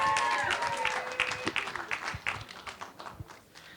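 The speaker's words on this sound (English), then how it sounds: "Please give a round of applause." Wedding guests at Twin Oaks House in San Marcos break into lively applause that starts dense and gradually thins into scattered claps, with voices mixed in.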